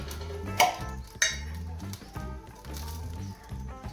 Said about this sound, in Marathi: आता आपल्याला गॅसवरती कढई गरम करायला ठेवायची आहे.